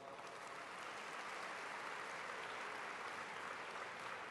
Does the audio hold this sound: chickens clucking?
no